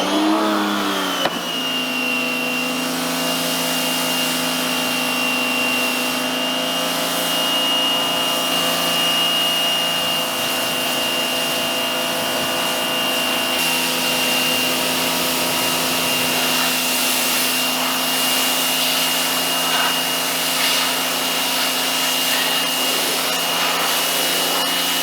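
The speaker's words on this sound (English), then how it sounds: "I'll start with a pressure washer." A pressure washer sprays down a muddy dirt bike, a steady, loud hiss and motor drone running continuously throughout with little change, close to the mic and without talk.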